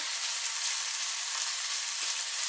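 Wild chanterelle mushrooms fry in butter in a pan, a steady, close, bright sizzle that holds even throughout with no talking.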